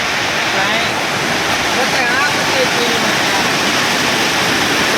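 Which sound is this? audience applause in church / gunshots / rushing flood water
rushing flood water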